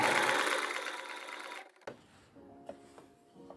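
A sewing machine stitches an overcast seam, running loud and steady at first, then stopping, followed by a few quieter short bursts of stitching and clicks with pauses between.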